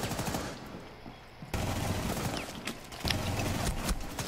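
Rapid bursts of gunfire in a tactical first-person shooter round, dense and loud throughout with sharp transients, the firing intensifying after a brief lull early on.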